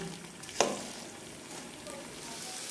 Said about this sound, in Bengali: এইবার চালটাকে খুব ভালো করে ভেজে নেব